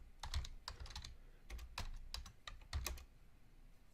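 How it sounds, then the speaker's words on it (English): Fingers tap on a computer keyboard in quick, uneven clusters of soft clicks, close and quiet, with no one talking. "you can actually type right in here"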